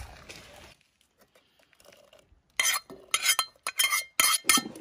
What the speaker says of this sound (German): Nun kommen die Zwiebeln hinzu.